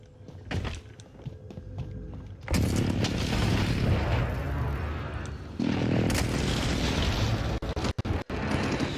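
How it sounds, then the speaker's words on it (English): Precision airstrike explosions in a video game, heavy booming blasts that start suddenly and roll on as a loud, rumbling roar, with a second surge later and sharp crackles near the end. "Friendly precision airstrike inbound."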